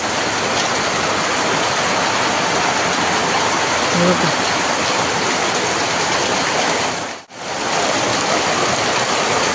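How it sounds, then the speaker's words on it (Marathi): Dense, roaring downpour of heavy rain in a village, a constant broadband wash close by, with a brief sharp dropout near the end before it resumes. "पाऊस अति मुसळधार पाऊस आहे"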